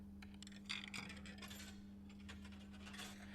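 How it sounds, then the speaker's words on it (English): A coin drops in the video game Blue Prince, giving a few small metallic clinks and taps over a steady low hum, fairly quiet and close, with no speech. "I am awakened at the sound of a dropping coin"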